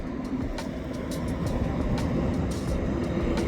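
A tram runs on a small line in Naumburg, Germany, a steady rolling rumble of wheels on rails that builds slightly, with faint rattles and no voices.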